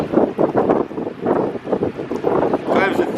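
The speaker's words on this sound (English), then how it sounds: "It's seriously never this windy." Strong wind buffets the microphone at a dirt bike park, a steady low roaring rush with gusty swells throughout, heavy and close.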